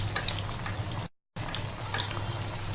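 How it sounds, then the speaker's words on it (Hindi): Shami kababs fry in hot oil in a pan, giving a steady crackling sizzle with a brief silent gap in the middle. "अब मैं इसमें शामी कबाब डालने लगी हूँ।"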